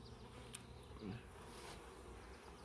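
Honeybees in a strong, busy hive with a queen, giving a faint, steady low buzz throughout, with a brief louder bump near the end.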